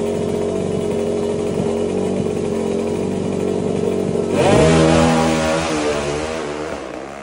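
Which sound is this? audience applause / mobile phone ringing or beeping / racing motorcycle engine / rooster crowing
racing motorcycle engine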